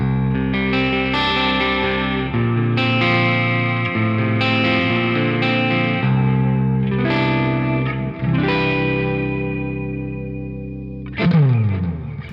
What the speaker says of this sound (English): Very nice woody sounding neck pickup.